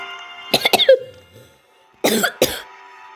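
Two separate bursts of a person coughing, close and fairly loud, each a quick cluster of harsh hacks with a short quiet gap between them; no talking.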